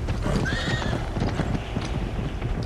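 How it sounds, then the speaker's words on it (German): Horses in the video game Uncharted 3 clip-clop at a trot with a sharp whinny rising over the hoofbeats, close and busy for a few seconds. "Pferde wissen, wo es gefährlich wird."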